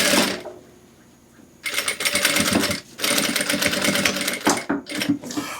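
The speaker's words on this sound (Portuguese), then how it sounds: "já estou chegando aqui do outro lado, onde eu iniciei a costura" A sewing machine stitches a skirt in fast, rattling bursts, with short pauses between runs, heard close and loud without talk.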